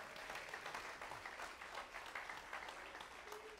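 Church congregation applauding at a Sunday service, a steady wash of hand claps filling the room for several seconds without pause.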